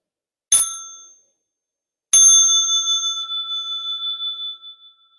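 Small meditation bell used to signal stretching and massage: two clear metallic dings, the first brief, the second ringing out with a long, slowly pulsing decay in near silence.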